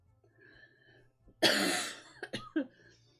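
Repeated coughing from a person with an irritated throat: one loud, sustained cough burst followed by several shorter, sharper coughs close to the microphone, over a quiet background.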